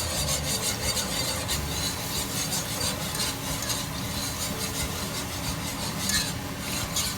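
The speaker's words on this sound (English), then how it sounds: "We're going to be slowly whisking this in." A whisk scrapes and stirs steadily as half and half cream is worked into a cheese sauce for baked mac and cheese, a continuous close rubbing swish with no talk.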